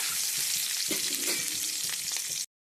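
Eggs frying in hot oil with turmeric for egg curry, a loud, dense, continuous sizzle with occasional stirring clatter, cutting off abruptly near the end.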